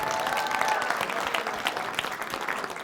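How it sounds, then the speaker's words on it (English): Audience applause for Cammie at a Tribe Night group session, a steady crowd of hands clapping at moderate distance, fairly even and dense throughout. "Big round of applause for Cammie."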